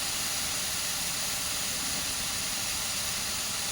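Prawns go into a curry of pond moss cooking in a pan, giving a dense, steady sizzling hiss that holds evenly throughout.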